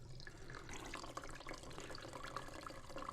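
Chicken broth poured into a rice cooker pot, a steady splashing, trickling pour that runs close and fairly loud through the whole short stretch with no talk.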